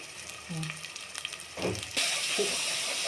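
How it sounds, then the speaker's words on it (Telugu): Ginger, garlic and turmeric frying in oil, with quiet clinks and handling at first, then a sudden steady sizzle that swells and continues, close by. "అల్లం ఎల్లిగడ్డ పసుపు మంచిగా నూనెలో వేగాలి"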